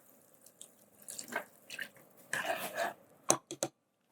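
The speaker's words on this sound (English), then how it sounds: "So I'm going to add our vegetable broth." Vegetable broth poured into a cooking pot of vegetables, heard as soft, intermittent splashing and trickling close by, ending in a few brief sharper drips and knocks.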